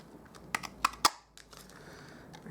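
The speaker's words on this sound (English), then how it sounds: "I'm going to cut out the feet part" A few crisp, quick snips of scissors cutting cardstock for punch-art owl feet, three close, sharp cuts in a row followed by faint paper rustling in a quiet room.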